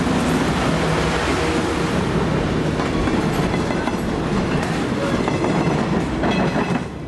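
A train rolls past with a loud, steady rumble and rhythmic clickety-clack of wheels on rails, no voices.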